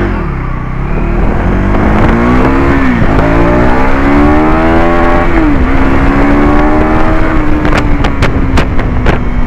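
A 2025 KTM Adventure 390 motorcycle crawls along at low speed, a steady engine drone with slight pitch dips, then a few sharp clicks near the end.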